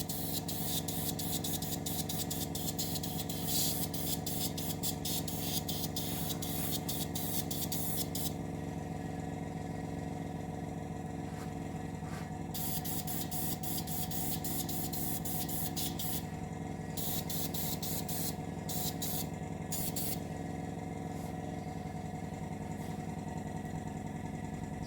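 Airbrush spraying a dust coat of paint onto a model of the Russian Navy Project 955 Dolgoruky submarine, a steady continuous hiss with intermittent bursts and a constant compressor hum underneath, close and fairly loud throughout.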